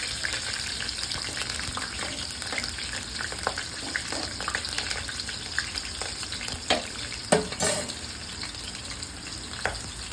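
Green chillies sizzle steadily in hot oil in a pan for chicken curry, a continuous frying hiss broken by a few stirring scrapes and clicks.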